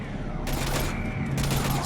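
Rapid gunfire bursts in the Mass Effect Legendary Edition game, during the Reaper attack on Earth, loud and dense over nearly two seconds with overlapping shots.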